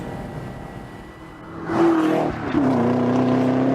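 A 2018 Chevrolet Camaro ZL1 1LE driven on a road, its engine droning steadily then rising into a loud, close revving surge as it accelerates, with no talk.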